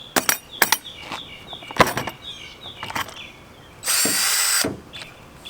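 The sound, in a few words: power drill drilling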